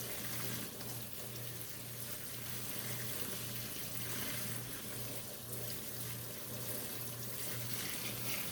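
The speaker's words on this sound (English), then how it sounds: "Now we're just supposed to rinse it until it's clear." Tap water runs steadily into a sink while handspun linen yarn is rinsed clear, a faint, even hiss with a low hum beneath it and no voices.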